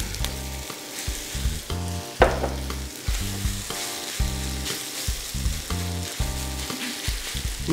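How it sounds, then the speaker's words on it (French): Grated potato pressed into a pan for a paillasson sizzles and crackles steadily throughout, with a rhythmic scraping of a utensil pushing it around, close and continuous without any talk. "Là, vous mettez l'ensemble dans la poêle"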